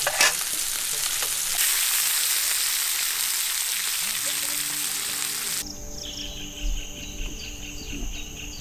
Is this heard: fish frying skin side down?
yes